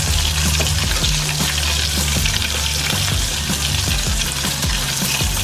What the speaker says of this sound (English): Now you hear that bubbling, folks, that's my cheese coming out.